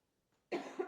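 A single close cough bursts out abruptly after a near-silent moment, loud and harsh with a second push at the end, with no talking.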